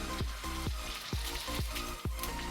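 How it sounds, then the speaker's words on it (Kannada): Rice sandige crisps frying in hot oil, a dense continuous sizzle and bubbling, broken by repeated soft scraping or stirring strokes at an uneven rhythm, close and fairly loud with no talk. "ಇದನ್ನು ಫ್ರೈ ಮಾಡಿದರೆ ಸಾಕು ಬೇಗನೆಲ್ಲದೆ ಕೆಂಪಾಗುವುದು ಬೇಗ ಬೇಗನೆ ಫ್ರೈ ಮಾಡುವುದು"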